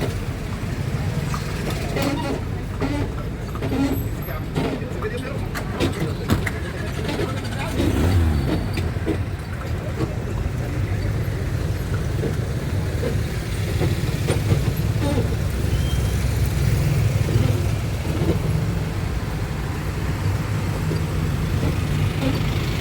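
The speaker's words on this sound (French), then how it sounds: "circulation d'enfer." Dense road traffic flows steadily around a horse-drawn carriage in a Berber village area near a souk, with continuous engine rumble and passing vehicles under ongoing background talk.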